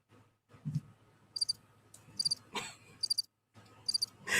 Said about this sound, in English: That's what they be sounding like, the crickets.